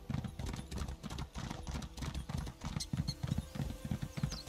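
A horse galloping in the Elder Scrolls Online High Isle expansion, with steady rhythmic hoofbeats close and continuous throughout, over a low game background and no talk.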